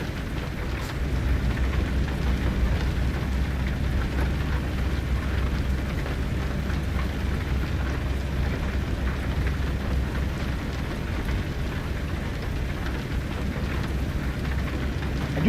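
Steady rain in Euro Truck Simulator 2 patters as an even, continuous wash, with low rumbling beneath it and no talk.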